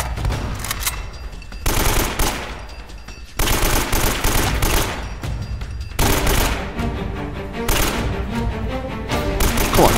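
Sustained automatic AK rifle fire in the video game Uncharted: Drake's Fortune, loud close bursts repeating almost continuously with brief pauses between volleys.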